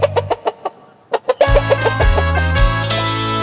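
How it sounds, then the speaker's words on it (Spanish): A hen in the La Granja de Zenón video game clucks in a series of short, sharp clucks, then cheerful music with a steady beat takes over and continues to the end. "¡La gallina! ¡Estupendo! La gallina hace co, co."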